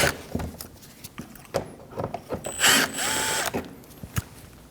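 A ratchet driving T25 screws out of a 2012-2022 Volkswagen Passat front bumper gives close, irregular clicking bursts with short metallic rattles and pauses, no voices.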